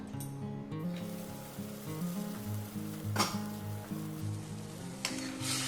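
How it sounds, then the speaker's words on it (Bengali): A pan of curry broth bubbles and simmers steadily at a boil, with soft sizzling and an occasional stir or clink, no talking. "দেখছেন ঝোলটা ফুটে উঠেছে"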